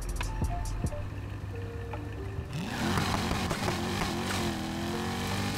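A V8-swapped Lamborghini Huracan in the racing game NFS Heat idles with faint ticking, then launches from a standstill at about two and a half seconds, its engine roaring and climbing loudly through rising revs.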